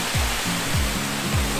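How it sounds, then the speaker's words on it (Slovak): Davos waterfall roaring as a broad, steady rush of falling water, loud and close, heard alone with no talk. "Dorazili jsme na dlouhé promenáde k úžasnému davoskému vodopádu"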